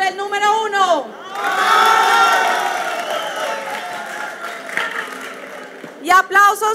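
A large audience at a Campus Party tech event in Colombia erupts in loud, sustained cheering and applause, a dense crowd roar lasting several seconds with shouts and whoops, bracketed by a host's voice at the start and end.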